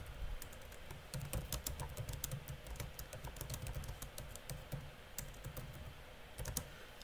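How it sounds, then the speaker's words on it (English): Someone types quickly on a computer keyboard, a dense run of close, soft key clicks going on for several seconds without talking. "I can literally type"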